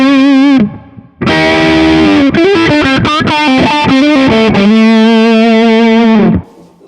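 Electric guitar run through a Kemper Profiling Amp's Muffin fuzz distortion with low drive, playing a loud sustained chord, a brief gap, then a burst of quick changing notes ending on a long held chord.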